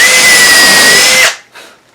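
A power drill drives a screw into a wooden planter stand, giving a loud, steady whine with a rising pitch that runs for about a second and a quarter, then stops abruptly, followed by a brief fainter mechanical sound.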